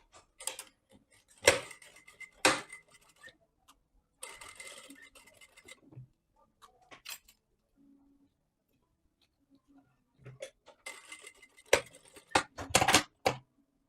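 Sewing machine running in short bursts as it stitches a straight 1 cm seam on a ruffled lace V-neck dress, bursts separated by pauses and quiet handling noises.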